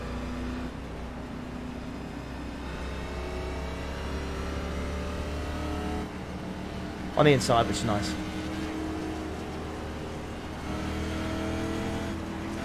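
Race car engine in a racing video game drones steadily throughout, its pitch climbing and shifting through gears, under continuous talk, with a brief sharp burst of higher tones midway.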